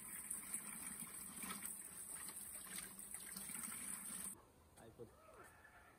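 Cold natural spring water flows in Turtuk with a steady, fairly close rushing trickle that stops abruptly near the end, leaving quieter surroundings and a brief voice.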